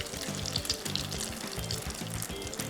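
Chicken legs dropped into hot oil, frying with a steady close sizzle and bubbling crackle throughout, no voices.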